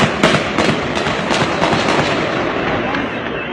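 Rapid gunshots crack during an armed clash in Izmir following an explosion, a dense, loud volley of overlapping sharp reports that gradually thins out, with frightened voices nearby.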